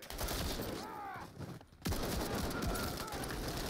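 Dense gunfire from Call of Duty Modern Warfare 3, a sustained close barrage that drops out briefly near the middle and then resumes just as heavily.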